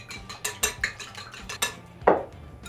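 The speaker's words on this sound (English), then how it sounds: "we're gonna grab 2 eggs. I'm just gonna beat those a little bit." Two eggs are beaten in a bowl for rabbit dumplings, a quick run of rhythmic clinking strokes of utensil against dish, ending with one sharper knock.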